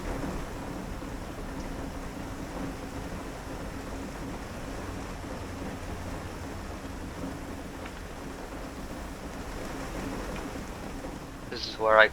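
Steady rain falls outdoors during a school bus evacuation drill, a continuous broadband hiss of drops on surfaces holding even throughout, with a brief louder burst at the very end.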